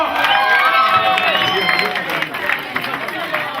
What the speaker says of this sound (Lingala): notre bien-aimé Mavo, et nous acclamons notre Seigneur très fort.